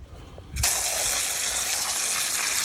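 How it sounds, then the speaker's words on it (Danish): Water suddenly gushes from above onto tumbled lace agate stones in a vibratory tumbler, a loud continuous rushing splash that starts abruptly after a quiet moment and keeps going. "Fordi vi tager sgu lige og giver den en gang vand her fra toppen af."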